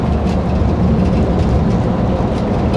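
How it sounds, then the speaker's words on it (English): Scania bus engine running on a London street, a loud steady low rumble that holds constant throughout, close and continuous with no voices over it. "She's sounding like a proper Scania."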